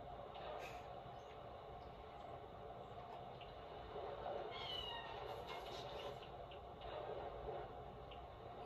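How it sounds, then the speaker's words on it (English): A cat meows a few times in the Fortnite video game, fairly faint and set against a steady bed of in-game ambience and background noise. "Oh, here's the kitty cat!"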